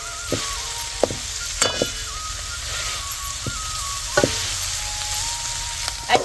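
Fenugreek leaves sautéing in a pan, giving a steady close sizzle with occasional sharp clicks and scrapes as they are stirred.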